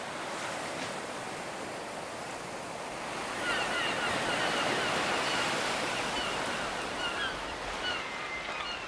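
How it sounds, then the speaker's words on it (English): Waves rolling onto a shore as the tide comes in, a steady broad wash of surf with gusts of wind buffeting the microphone, swelling slightly louder midway and continuing without speech. "The flaming tide's coming in!"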